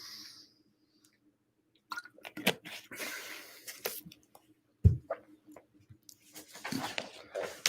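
Someone takes a few sips of water during a live mediumship demonstration, with soft wet swallowing and squishing sounds, close to the microphone, after a brief silence and with no talk.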